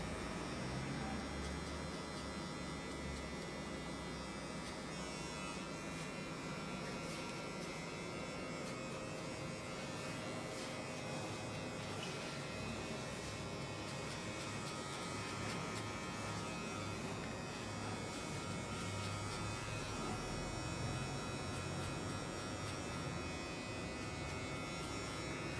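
An electric hair clipper buzzes steadily and close throughout, cutting a high fade haircut, a constant humming drone with slight changes in pitch as it moves.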